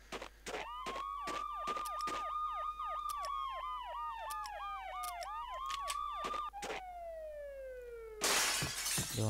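Police sirens in Max Payne wail in a fast, rising-and-falling yelp, loud and close, broken by sharp repeated gunshot-like cracks, then the siren slides down in pitch before a burst of shattering glass at the end.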